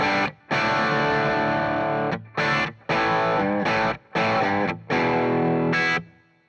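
Electric guitar on a bridge humbucker, through a Warm Audio Warmdrive overdrive pedal boosting an already gainy second amp channel, plays loud, thick distorted chords and phrases in bursts separated by short gaps.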